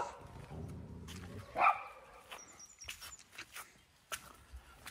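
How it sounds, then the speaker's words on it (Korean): Dogs barking outdoors in the morning, a few sharp barks in a short burst near the start followed by scattered fainter yips and rustling, answering another dog barking far off. "저 멀리서 또 치가 짖으니까 따라서 애들이 짖습니다"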